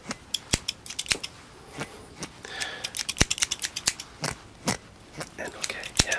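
Scissors trim hair during a professional haircut, giving a close, crisp series of sharp snips in irregular quick runs, with soft talking underneath at times.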